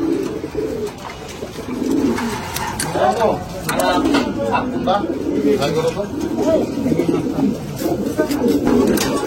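A domestic pigeon coos repeatedly in low, throaty rolling phrases close by, while someone talks over and between the calls indoors.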